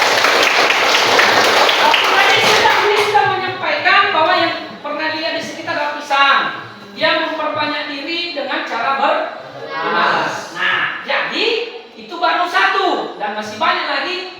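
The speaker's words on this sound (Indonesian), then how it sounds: "Berikan aplaus untuk Lilis." A classroom of students claps for a classmate, bursting into loud, dense applause for about three seconds before fading, followed by a teacher talking.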